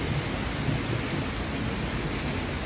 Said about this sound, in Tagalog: Grabe ang lakas ng ulan, oh.